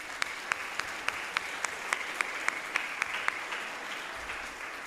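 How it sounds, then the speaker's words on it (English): Light applause at a foundation scholarship night, following an announcement of a large donation: broadband noise with a row of sharp, evenly spaced claps standing out near the front, steady and fairly quiet throughout. "let's give that a round of applause"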